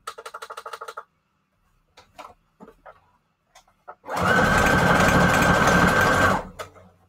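A sewing machine running a straight stitch through paper scrap strips: a short rattling burst of stitching, scattered small clicks and handling noises, then a steady loud two-second whirring run that stops abruptly.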